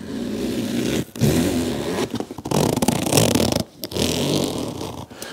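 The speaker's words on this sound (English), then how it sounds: "Now, the zips are really nice. These are YKK zips." YKK zips on a canvas gun bag being opened and closed, a series of close raspy zipping strokes separated by brief pauses, with no talking.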